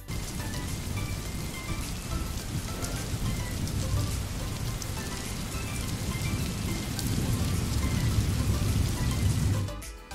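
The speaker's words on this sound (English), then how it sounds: "I can hear the pitter-patter of the rain" Steady rain falls and patters on a surface, a dense, even hiss of raindrops that swells slightly toward the end before cutting off, with no voices.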